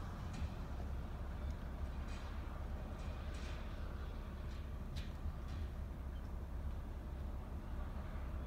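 A fast, long Norfolk Southern freight train passes on the Lake Erie main line, a continuous low rumble with faint metallic squeals and clanks from the wagons, steady and moderately distant, with no talk.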